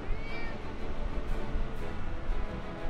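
A cat named Momo in the Triangle Strategy game meows loudly and repeatedly in a harsh, drawn-out, caterwauling way, close up and continuous over a dense background.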